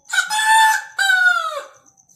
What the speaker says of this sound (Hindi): मुर्गा भी अपना बांग लगाया।